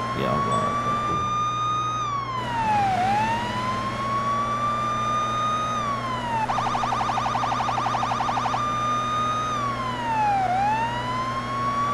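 A police car siren in a highway patrol simulator video game wails loud and close in long rising and falling sweeps, with a rapid yelping burst midway and a steady engine hum underneath.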